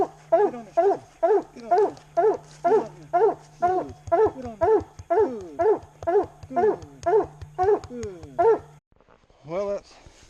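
A hunting dog pup on a nighttime raccoon hunt barks steadily at a tree, close and loud, with about eighteen evenly spaced yelping barks over a low steady hum, then one final bark after a short pause.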